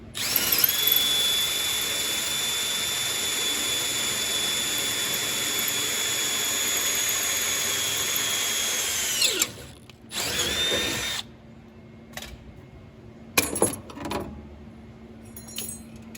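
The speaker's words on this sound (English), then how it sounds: "You drill your 2 holes." A power drill whines at high speed for several seconds, drilling starter holes in a 1988-98 GM truck to mount power steps, then stops; a few shorter bursts follow with clicks and handling noise in between.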